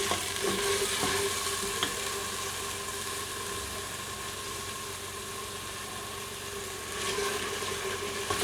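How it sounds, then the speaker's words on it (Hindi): Garlic-ginger paste for mutton paya fries in a pan with a steady, even sizzle and faint stirring. A low hum sits underneath, and the hiss swells slightly near the end. "ये मैं इसमें डाल के इसको भूनूँगी। इसको थोड़ा हल्का सा गोल्डन होने तक भूनेंगे हम।"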